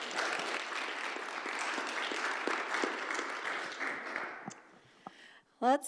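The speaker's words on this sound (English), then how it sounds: "give a round of applause to Jerry and Chuck and Jim" An audience at a university school's 60th anniversary event claps steadily for several seconds and then tapers off. The applause is dense and fairly close, and a voice comes in briefly near the end.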